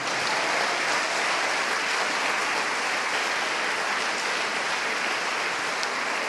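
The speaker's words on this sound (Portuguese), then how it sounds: "E ao Senhor Jesus podemos dar um aplauso de maior agradecimento." Steady, dense applause fills a church congregation, even and continuous like rain, moderately loud, with no talking over it.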